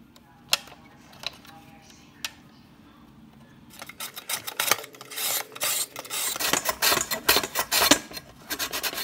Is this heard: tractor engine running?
no